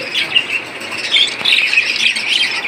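A pair of budgerigars kept among pet birds for sale calls with continuous close, bright chattering squawks and chirps throughout, with no talking.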